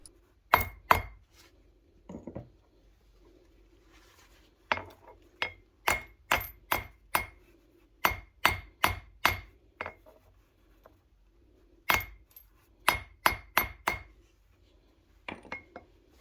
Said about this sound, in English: I use the ball side of the hammer to rough out a heart shape